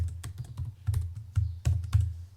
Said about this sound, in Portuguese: Agora eu vou digitar o comando.